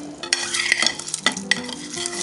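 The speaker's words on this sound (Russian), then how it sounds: "И высыпаем все наши специи." Spices poured and stirred into a pot of water for a mushroom marinade, heard as a short run of rattling, clinking and stirring sounds from a metal pot and utensil, close and fairly loud, no talking.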